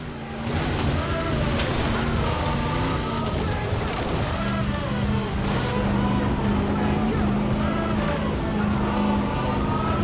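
A 6x6 truck originally built for the Australian Army, driven in Forza Horizon 4 with its speed limiter removed, drones with a loud, steady engine roar that shifts pitch as it accelerates.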